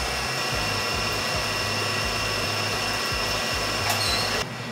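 An electric grinder milling soaked rice that has been washed until the water runs clear, a loud steady motor whine running throughout before dropping off abruptly at the end.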